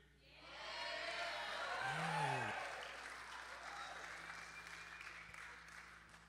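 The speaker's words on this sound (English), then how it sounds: "you know you've got a good church when people cheer for the beard more than Jesus" A church congregation breaks into cheering and applause that swells quickly, holds loud for a few seconds with whoops and a voice rising above the crowd, then tapers to a softer clapping wash.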